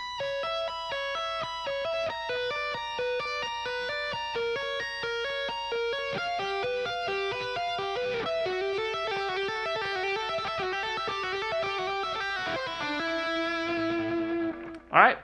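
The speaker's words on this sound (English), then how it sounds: "all together for the tapping." Electric guitar with distortion plays rapid tapped notes in a dense, fast cascade, ending with a sustained lower note and a brief final thump, from the first solo of a song.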